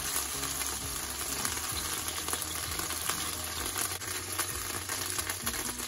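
Chicken pieces sear in a hot pan for a stir fry with broccoli and mushrooms, a dense, continuous sizzle that stays loud and even with no talking.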